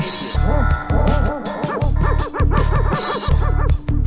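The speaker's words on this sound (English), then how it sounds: "I was just playing dog barks in D sharp like an idiot." Dog bark samples played as musical notes in D sharp, a run of repeated yips and bow-wows in a rhythmic pattern over a steady loud low drone, close and prominent throughout.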